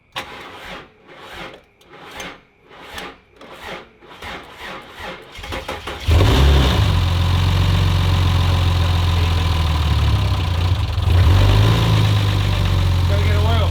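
A turbo engine in a Ford Fairlane cranks in a series of rhythmic starter pulses and then fires into a loud, steady, rumbling idle close by.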